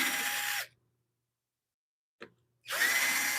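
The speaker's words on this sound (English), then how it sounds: "get the drill" A power drill whirs loudly in a woodturning shop while walnut and cypress bowls are being prepared, running in two bursts separated by a silent gap and a short trigger blip.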